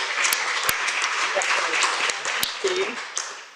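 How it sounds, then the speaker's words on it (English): A small audience applauds a diploma at a healthcare programme gathering, a moderate patter of clapping with a few sharper individual claps, fairly close. "Can we just have an applause for the diploma?"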